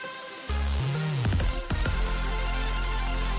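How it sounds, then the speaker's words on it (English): Victory fanfare played over a livestream, a loud burst of synthetic game-style tones with sweeping pitch bends and sharp hits, settling into a sustained low buzzing chord. "it will play a random victory fanfare"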